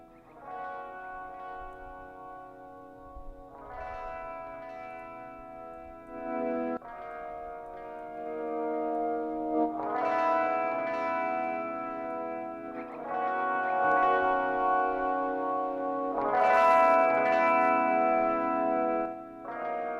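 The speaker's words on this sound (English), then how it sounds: "So you can hear as the dry signal hits the VU meter, it turns this guy down." Synth notes run through the T-RackS 5 Space Delay plugin set fully wet with ducking on, the echoed tail swelling up between phrases as the dry notes drop away; moderately loud, sustained chords and repeats with no talking.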